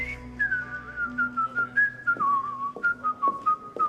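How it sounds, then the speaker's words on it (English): A man whistles a lilting tune solo, clear and close, its melody stepping and sliding through short phrases over faint background music. "You don't like my whistling?"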